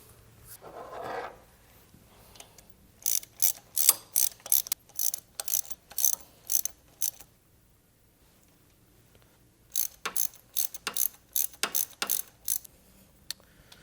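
Rapid ratcheting clicks from a wrench tightening cam sprocket bolts on a Harley-Davidson Milwaukee 8 Touring engine, in two close bursts of repeated back-and-forth strokes separated by a pause.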